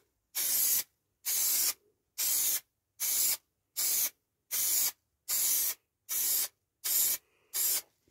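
Spray glue hisses from an aerosol can in ten short, evenly spaced bursts, each loud, close and about half a second long, while mirrors and speakers are worked on during an Audi A2 restoration.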